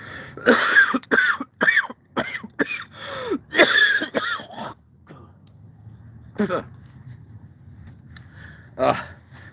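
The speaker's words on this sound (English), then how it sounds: "Cough." Several sharp coughs and throat-clearing bursts come in a quick irregular series up close, then taper into quieter breathing and a final cough.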